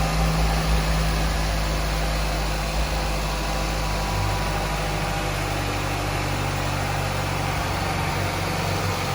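A 2016 Nissan Rogue engine idles after a spark plug change, with a steady, low, even rumble and a faint hiss, running smoothly with no talking.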